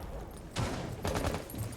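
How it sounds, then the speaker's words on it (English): Gunfire in a Rainbow Six Siege collegiate esports match, Marietta College against Kutztown University: two bursts of rapid shots after a breached wall, close and fairly loud over steady game background noise. "You're seeing shots are being fired all over the place."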